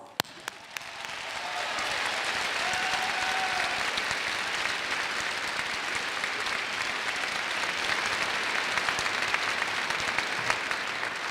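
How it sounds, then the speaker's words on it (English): Sustained applause from a large crowd at a university commencement ceremony swells after a few scattered claps and holds as a dense, even roar of clapping. "Now, applause"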